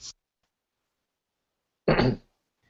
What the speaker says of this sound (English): I'm going to need to cough for a second